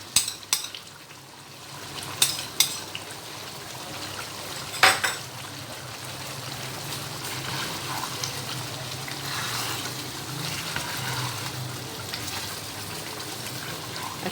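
Mutton tikka karahi with yogurt is stirred and fried in a wok, giving a steady close sizzle and frying hiss with a few sharp clinks of a utensil against the metal near the start.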